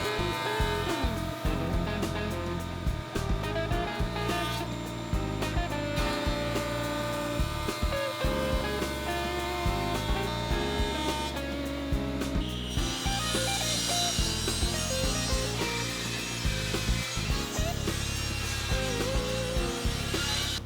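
A jointer planes the edge of a 68-inch wooden crest rail, a dense, continuous close-up rasping and whirring cut that runs loud and unbroken for the whole stretch, with no talking.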